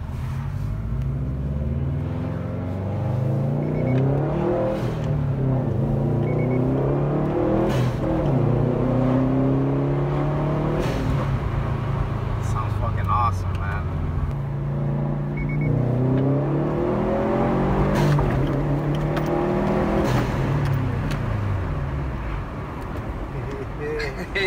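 A 2016 Subaru WRX STI with a newly installed GoFastBits blow off valve revs repeatedly, its engine rising and falling several times at moderate distance, while people talk over it.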